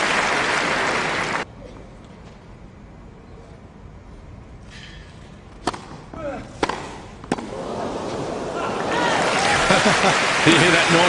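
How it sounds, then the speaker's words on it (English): A tennis crowd roars for a Federer forehand winner, loud cheering fading to near quiet and then swelling again into sustained applause and noise. "You hear that noise from the crowd."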